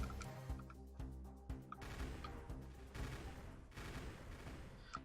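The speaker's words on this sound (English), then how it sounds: "Assault rifle." Assault rifle fire in the video game Moss Destruction: rapid, even bursts of shots over a busy, dense game soundscape, with loud single cracks standing out along the way.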